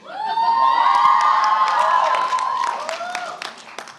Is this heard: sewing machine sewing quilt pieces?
no